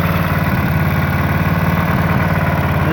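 A Clarke CPB1200 small petrol engine idles after a cold start with a steady, close, even putter and no voices.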